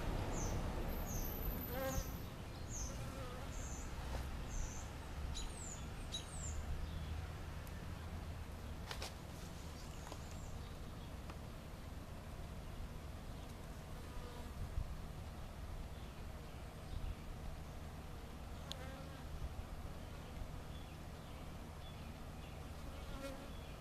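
Honey bees buzz continuously around an open beehive during an inspection, a dense steady drone with individual bees flying close by in brief louder passes.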